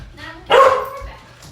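A single sharp dog bark rings out indoors at home, brief and fairly close, with quiet room sound before and after.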